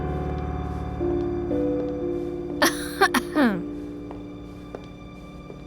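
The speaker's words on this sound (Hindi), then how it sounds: "बीमारी की वजह से खांसी नहीं आई मुझे, मैं आ रही थी इसलिए खांस रही हूँ" A woman coughs a few times in a short cluster, close and fairly loud, amid other voices and indoor drama sound.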